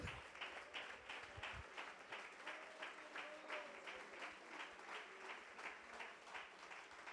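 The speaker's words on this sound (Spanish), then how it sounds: "¿Por qué no le da ese fuerte aplauso a Él?" A church congregation applauding at a Spanish-language sermon by Henry Avendaño: continuous, fairly distant clapping from many hands throughout, faint and steady with no voices standing out.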